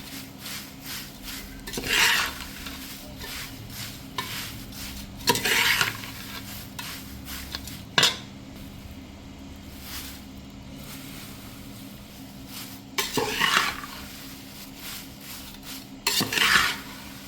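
Thin poha being stirred in a pan for Samvedi-style chivda, with soft scraping and rustling strokes of the spoon that come in intermittent bursts over a low steady background, close and fairly quiet.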